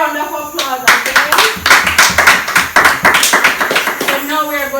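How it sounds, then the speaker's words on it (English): A group claps for a birthday girl at her party, with loud, dense applause running for several seconds and voices heard briefly at the start and end. "let's give her a round of applause again"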